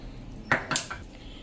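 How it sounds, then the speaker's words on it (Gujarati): Ice cubes dropped one by one into a glass of fennel sherbet with lemon and basil seeds, giving two or three bright clinks and taps in quick succession, close and clear against a quiet background. "તો આ રીતે આપણે આઈસના ક્યુબ પણ ઉપરથી એક એક નાખી દઈએ"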